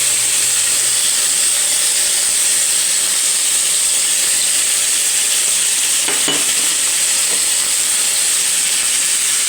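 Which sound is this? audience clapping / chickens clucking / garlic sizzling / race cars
garlic sizzling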